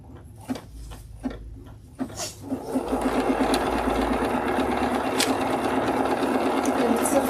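An embroidery machine stitches leaves with a steady, fast mechanical chatter that starts after a few slow individual stitches and then runs continuously, close and moderately loud.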